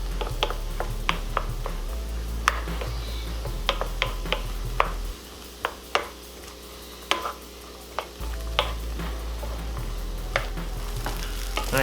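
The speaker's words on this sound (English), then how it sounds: "I added some little bit of olive oil to the skillet and I'm just sauteing this up till it softens up" Green bell pepper sautéing in olive oil in a skillet, with a steady close sizzle and frequent sharp clicks and taps of stirring against the pan, a low hum underneath that drops out briefly midway.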